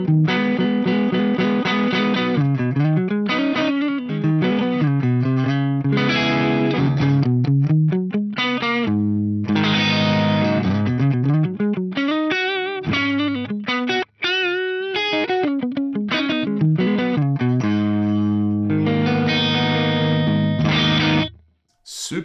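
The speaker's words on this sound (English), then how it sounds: "this is just a great combination and one of my favorite clean tones on any of the Fractal devices" Electric guitar with a clean tone through a Fractal amp modeler and a Dumble 4x12 cabinet, loud and close, playing chords and melodic phrases with sustained notes, played without talking and ending in a brief drop to silence.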